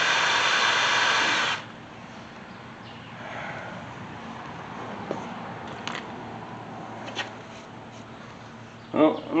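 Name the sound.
power drill drilling into engine part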